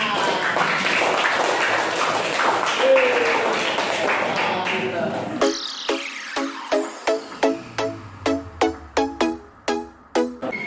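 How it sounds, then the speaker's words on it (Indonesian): Classroom students clap, first as a dense burst of mixed applause, then as a crisp rhythmic patterned clap of about a dozen sharp, evenly spaced beats, close and loud. "Tepuk tangan."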